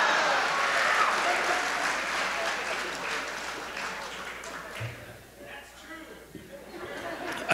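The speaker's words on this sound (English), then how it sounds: "That kind of rousing applause." A stand-up comedy audience claps and laughs, the applause loud at first and then thinning into scattered clapping and chatter as it dies away.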